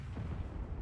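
Artillery fire in the World of Tanks video game, a low, muffled booming rumble that rolls briefly and fairly quietly.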